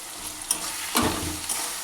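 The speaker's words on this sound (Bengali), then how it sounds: "দিয়ে মশলা দিয়ে ভালো করে কষিয়ে নেব একটু" Ginger, garlic and dry chili paste hits hot oil in a pan, giving a short burst of sizzling with a sharper spit midway, close and fairly loud, then settling into a steady frying hiss.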